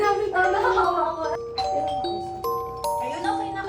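A chiming doorbell rings out a few descending tones, while voices chatter over it.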